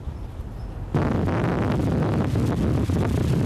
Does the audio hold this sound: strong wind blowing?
yes